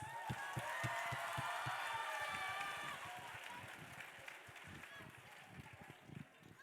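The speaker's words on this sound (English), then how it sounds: "Can we get another round of applause?" Applause from an audience at a school Teachers' Day performance, scattered sharp claps over crowd noise and voices, loud at first and then thinning out and growing quieter in the second half.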